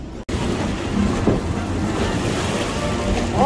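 A Disney theme park water ride rushes and splashes through water on a rainy day. The loud, continuous roar of spray and wind fills the whole stretch, with no talking.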